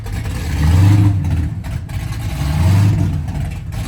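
A 1969 Camaro with a fuel-injected, supercharged big-block engine drones close by while driving, its low rumble swelling and easing in two slow surges with no talking.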